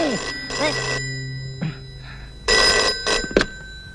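A telephone bell rings in several sharp, repeated bursts, loud and close, in a Telugu film scene. Brief voice sounds fall between the rings.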